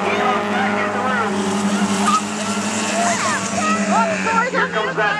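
Hornet race cars roar and slide around a dirt track, with tires squealing and engines whining up and down in pitch at middle distance, under continuous excited commentary.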